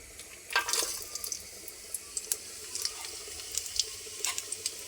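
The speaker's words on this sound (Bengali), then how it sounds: "এই যে এদিকে আমি ডাল চাল একসাথে ধুয়ে রাখছি" Tap water runs into a sink while lentils and rice are rinsed together in a home kitchen, a soft steady wash broken by small splashes and drips.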